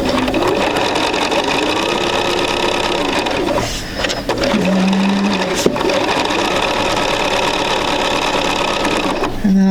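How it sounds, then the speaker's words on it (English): A sewing machine runs a quarter-inch seam on quilt sampler pieces, a loud, steady mechanical whirr close by. It stops briefly partway through with a short fabric or handling sound, then resumes, and a voice talks faintly underneath. "So we'll get a little sewing in"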